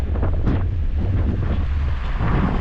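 Strong, cold wind near El Calafate, Patagonia, buffets the microphone with a constant loud roar and rumble, no voices.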